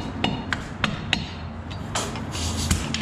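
A flathead screwdriver pries at the wheel hub cap of a 1999-2015 Chevrolet 2500HD 4x4, giving a series of sharp metallic taps and clicks over a low hum, with a scraping rasp toward the end.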